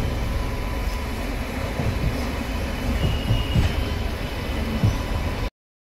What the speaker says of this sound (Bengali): 22388 ব্ল্যাক ডায়মন্ড এক্সপ্রেস যাচ্ছে